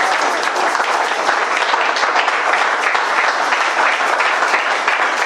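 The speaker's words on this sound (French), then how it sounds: "Si on peut acclamer maintenant pour le roi des rois." A church congregation applauds and cheers for Jesus Christ, with dense, steady clapping filling the room from start to finish.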